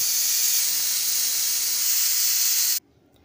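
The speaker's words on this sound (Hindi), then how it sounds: "हम लीड लगाकर इसे 6 से 7 सीटी होने देंगे" A pressure cooker cooking overnight-soaked chickpeas on a stove lets out a loud, steady hissing whistle of escaping steam for nearly three seconds, then cuts off abruptly into near silence.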